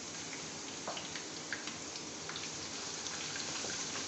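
Halved green chillies fry in oil over low heat for a minced meat and potato dish, giving a faint, steady crackling sizzle like light rain with tiny pops throughout.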